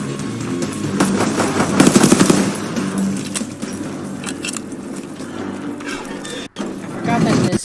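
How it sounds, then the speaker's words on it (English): Rapid bursts of M38 submachine gun fire in a WW2 zombies shooter, loud and sustained across most of the stretch with a brief dropout, mixed with game effects and a voice talking over it. "M38. A better tool for the job at hand. I forgot about this SMG."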